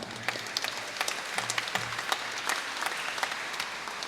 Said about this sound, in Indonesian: Kita juga beri tepuk tangan untuk mereka.